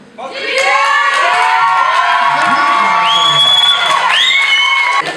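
An audience at the XL Model Awards second semi-final erupts in loud cheering, whoops and excited shouts that swell quickly and stay sustained, with faint clapping mixed into the crowd noise.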